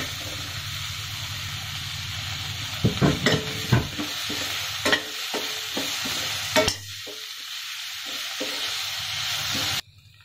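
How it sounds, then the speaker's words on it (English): Chopped tomato hits a hot pan for besan chutney and is stirred, giving a steady sizzle broken by several sharp scraping and clinking strokes of a spoon, up close, before the frying noise cuts off near the end. "We're going to add the tomato."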